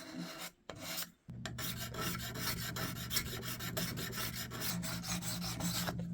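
A spokeshave fitted with a new sole shaves a wooden workpiece, lifting wispy shavings: a close, steady dry rasping scrape that runs almost continuously after a couple of brief pauses near the start.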